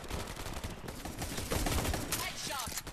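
Gunfire in a multiplayer shooter video game, dense and rapid, with overlapping shots and cracks in a loud, continuous barrage. Voices can be heard faintly underneath.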